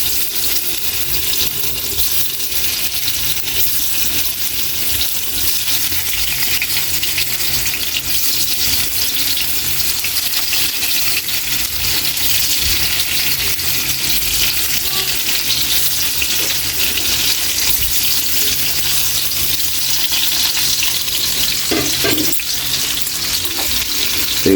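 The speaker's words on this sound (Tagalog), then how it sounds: "Kaya punta na natin ang ating pinainit na mantika para ma-fried na natin yung tofu" Tofu fries in heated oil with a steady, dense sizzle and crackle that holds at an even level for the whole stretch. Occasional light utensil clinks sit near the end, and no one talks.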